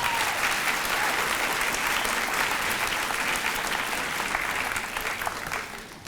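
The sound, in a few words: audience applause at honor society ceremony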